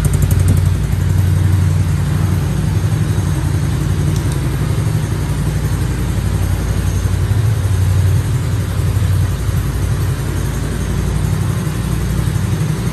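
A Hunter 125cc ATV quad bike idles with a steady, even exhaust rumble, close and loud, holding the same putter for the whole stretch without revving.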